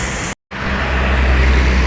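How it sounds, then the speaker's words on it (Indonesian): Bus from West Sumatra arriving on a roadway, a loud steady engine and road rumble with a brief total dropout early on, continuous to the end. "kedatangan bus Sumbar yang ke berapa nih?"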